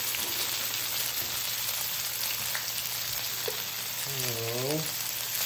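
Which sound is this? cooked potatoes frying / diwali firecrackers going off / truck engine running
cooked potatoes frying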